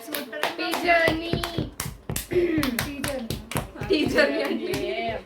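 Rhythmic hand clapping from people at a birthday celebration, sharp regular claps close by mixed with a singing and chattering voice that carries over the beat.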